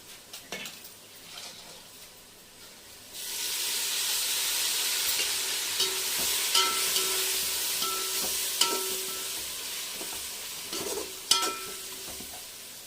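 Mint, coriander leaves and ginger-garlic paste sizzle and fry in hot oil in a pan for seeraga samba mutton biryani, with a steady hiss, clinking of the stirring spoon against the metal, and a few sharp scrapes.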